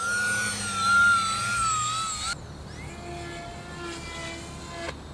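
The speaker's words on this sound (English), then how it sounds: "the RadioLink A560 3D profile plane." RadioLink A560 3D profile RC plane flying, its electric motor whining with rising and falling pitch, then dropping to a quieter, lower drone partway through as it continues overhead at moderate distance.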